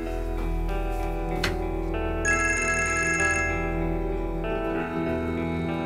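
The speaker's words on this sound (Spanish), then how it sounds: "Don Barish llamando." A phone ringtone plays continuously, a bright electronic melody repeating with a higher chime phrase in the middle, close and steady with no talking.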